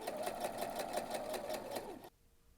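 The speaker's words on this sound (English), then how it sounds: "I'm going to just sew right off the fabric" A sewing machine stitches steadily off the end of a fabric dart while sewing a McCall's 6754 rocker dress, its rapid even whir close and loud before stopping abruptly near the end.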